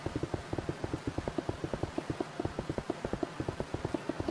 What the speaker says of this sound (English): Why does that sound like a horse galloping? Like in the cartoons.